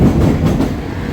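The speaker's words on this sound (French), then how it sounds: "ce métro, il est assez bruyant, surtout en virage" A noisy Paris metro train rounding a curve gives a loud, continuous rumble and clatter that stays steady throughout, with no voices over it.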